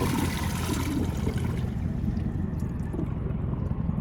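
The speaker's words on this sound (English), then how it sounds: "put in the toilet and flush it" A 2014 Sterling Windham toilet flushing, a continuous loud rushing of water that is strong at the start and gradually thins toward the end, close by with no talking.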